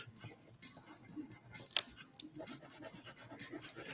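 A pencil scratches on paper during drawing, giving soft, irregular rasping strokes close to the microphone, with a few sharper clicks among them.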